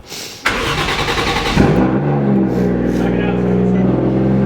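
A Toyota JZX90/100 engine, fitted with solid subframe bushings, cranks and catches, then settles into a loud, rumbling idle with some revving, close by.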